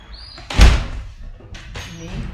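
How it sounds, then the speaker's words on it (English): A front door swings with a loud thunk and then a softer latch sound a second later, close and clear with no one talking. "The front door, 3 a.m."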